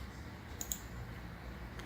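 Two quick, faint left clicks of a computer mouse close together, then a third softer click near the end, over a quiet room hum.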